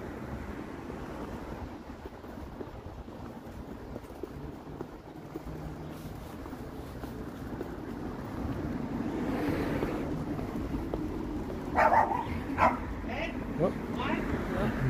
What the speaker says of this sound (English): Dog sees other dog.